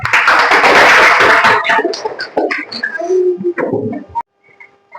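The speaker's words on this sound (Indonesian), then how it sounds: "tepuk tangan untuk kelompok 2" Classroom of schoolchildren clapping for group 2 after their presentation, a dense burst of claps for about two seconds that thins into scattered claps and chatter before fading out.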